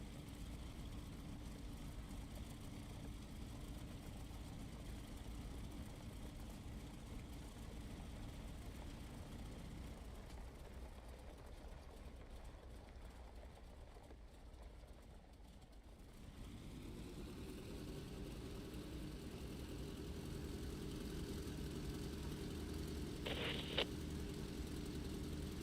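A P-47D-40 aircraft engine idling, a steady low rumble that shifts to a slightly louder, fuller drone partway through, with a brief click near the end.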